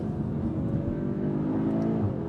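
A 2025 Audi S3 engine pulls steadily under acceleration on a tight road, a loud continuous drone heard from inside the car with no talk.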